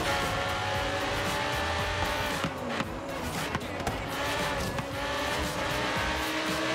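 A race car in Forza Horizon 3 drives at full throttle with a steady, loud engine drone and a few brief tire squeals and knocks along the way.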